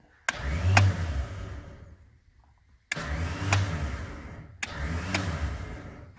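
An in-cab controlled electric winch motor whirs in three bursts separated by pauses, each starting with a click and a rising, steady hum.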